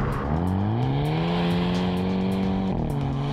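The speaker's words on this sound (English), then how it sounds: "you do want to hear the sound of the engine" A Hyundai Kona N engine revs hard under acceleration, its loud droning tone climbing steadily, dipping briefly at a gear change, then pulling again.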